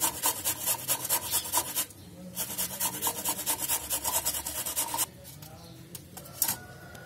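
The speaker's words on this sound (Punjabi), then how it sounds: "ਗਾਜਰ ਜਿਹੜੀ ਆ ਸਾਡੀ ਕੱਦੂਕਸ ਹੋ ਗਈ ਆ" A carrot is rubbed over the medium side of a kitchen grater in quick rhythmic rasping strokes, close and fairly quiet, with short pauses between bursts.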